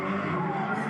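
Nissan S14 Zenki drift car skidding at Agassiz Speedway during a grassroots drifting competition, a sustained roaring tire squeal mixed with engine noise, loud and continuous for the whole short stretch.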